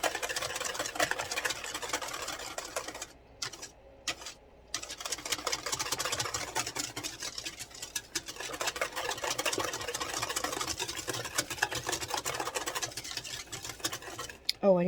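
A whisk beats batter flavoured with vanilla and nutmeg in a bowl, giving a fast, continuous rattling scrape at moderate level, with a couple of brief pauses.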